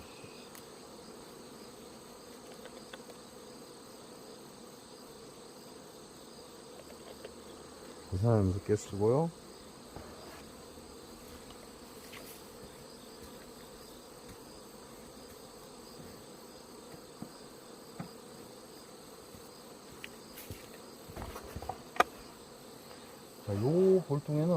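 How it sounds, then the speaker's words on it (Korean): Continuous humming drone of many honeybees clustered at a hive entrance, close and steady, with brief louder buzzes as single bees fly past and a few quiet spoken words. "요 볼통에는 벌이 앞에서 많이 매달려 있어요"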